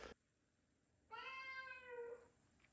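A single drawn-out cat meow, clear and close, follows a brief sharp sound and quiet, then fades near the end.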